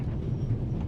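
A train rumbling along in a low, steady drone, heard from inside a carriage, brief and continuous with no voices.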